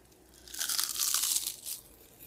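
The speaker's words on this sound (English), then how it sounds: "Nice and crispy, they just dried overnight and were super crunchy in the morning." Raw cheesy kale chips, dried overnight until crispy, crunch loudly in a single close bite-and-chew burst of brittle crackling that swells and fades over about two seconds, with no talking.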